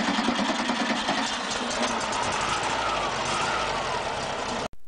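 A black Volkswagen Beetle engine runs close by with a steady, noisy mechanical rumble and rattle that holds at an even level before cutting off at the very end.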